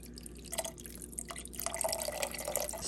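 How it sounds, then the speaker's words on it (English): Chicken broth pours from a carton into a pot, a close liquid splashing and gurgling that starts in short bursts and then becomes a steadier stream, with no talking. "I have some chicken broth in the cupboard, so I'll pour that in there"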